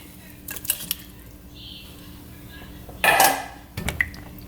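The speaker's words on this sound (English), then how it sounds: "Now I'm gonna go ahead and add in my mushrooms and onions." Mushrooms and onions go into a pan: a few clinks and scrapes of cookware, then a short loud sizzling burst, followed by more faint knocks and a quiet kitchen background.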